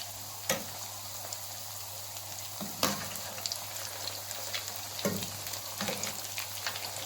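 Egg kebabs fry in a pan, giving a steady close sizzle with a few sharp crackles and spatters scattered throughout, no voices.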